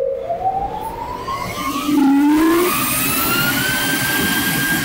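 Suction unit of a packaging-material machine in a factory, a loud airplane-like roaring whine with rising and sliding tones over a broad rushing noise.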